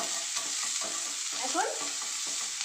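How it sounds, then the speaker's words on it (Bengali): Onions sizzle in a hot pan for fish fried rice, a soft steady crackle broken by repeated scraping strokes of a spoon stirring them, close and moderately quiet with no talking. "এখন পেঁয়াজটা ভাজা হয়ে যাচ্ছে"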